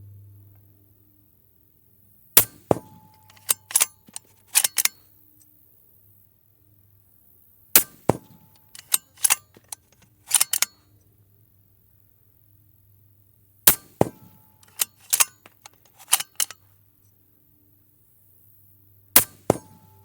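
Sharp rifle shots from a custom-built 22-250 with an OCM5 suppressor ring out in four separate clusters, each a quick run of cracks with metallic clinks, separated by quiet pauses. No talking.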